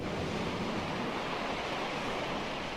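Ocean waves as a sound effect in a 1977 audio story, a steady, dense wash of surf noise, loud and unbroken throughout with no voices.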